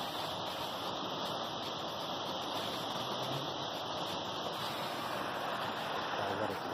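Drainage water from the Guarruz creek's drainage tank flows steadily toward the Cañaveralejo river, making a continuous broad rushing wash that is fairly faint and unchanging, with no voices.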